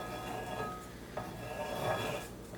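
A towel spatula scrapes and rubs around a single-tier cake as the frosting is smoothed, a soft continuous scraping with faint metallic clinks, close and alone.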